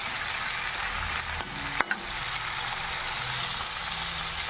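Tomato and vegetables fry in a pan with a dense, constant sizzle. A couple of brief utensil taps sound near the middle.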